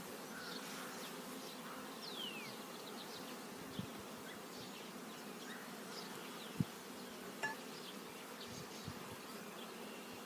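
Honeybees buzzing around a queen-rearing nucleus hive as it is populated, a steady soft drone of many insects with occasional individual bees passing close, faint and continuous throughout.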